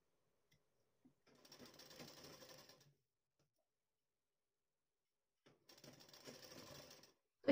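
A sewing machine stitches piping onto a jacket in two bursts, each about two seconds long, with a near, steady mechanical whir. The bursts are separated by silence.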